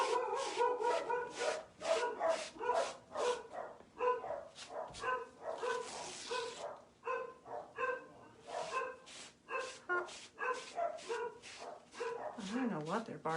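Several dogs bark in repeated sharp bursts, some yips mixed in, fairly close and continuing for over ten seconds, with a person talking over parts of it.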